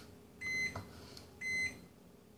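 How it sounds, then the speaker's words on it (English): A kitchen microwave oven sounds its done signal as two clear, steady electronic beeps about a second apart, loud and close in a quiet room. "That's my microwave telling me."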